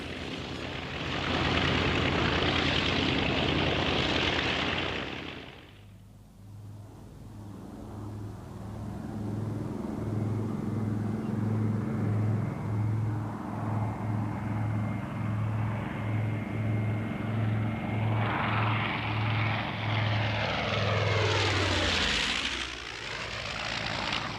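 A carrier bomber taxiing to takeoff with a small parasite jet fighter slung beneath its bomb bay, heavy aircraft engines droning loudly with a steady low hum, a brief lull, then a rising whine near the end.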